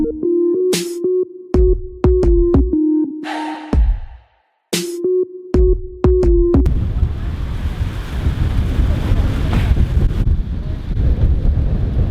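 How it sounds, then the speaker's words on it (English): Steady, roaring wind of about 40 mph buffets the microphone outdoors at a police SWAT school, preceded by several seconds of loud whistle blasts and shouting. "It is super windy out. Gotta be like 40-mile-an-hour winds."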